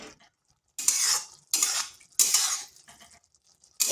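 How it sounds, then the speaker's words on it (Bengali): Okra masala with a few grains of sugar being stirred in a pan: three loud bursts of spoon scraping and clattering against metal, separated by short pauses, close up with no talk. "এরপর এটা একটু ভালোভাবে কষে নিচ্ছি"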